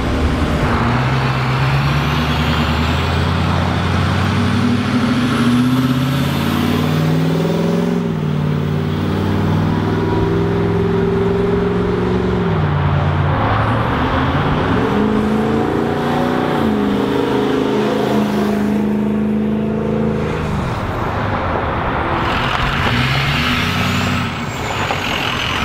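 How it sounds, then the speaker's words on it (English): A school bus engine with straight-piped exhaust roars loud and close, revving up and down in long sweeping swells and settling into a deep rumbling idle between pulls, with no talking. "I think we officially created the coolest sounding school bus ever."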